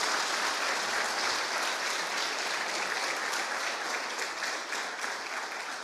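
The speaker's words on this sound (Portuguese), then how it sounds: "Vamos aplaudir o nosso Deus bem forte." Congregation applauding loudly in a church service, a dense, steady wash of many hands clapping that holds at full strength throughout with no voices standing out.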